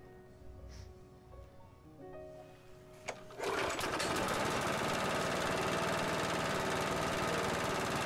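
A junk lawnmower with an overfilled, smoking engine starts after a few quiet seconds and then runs loudly and steadily to the end, with a dense mechanical drone.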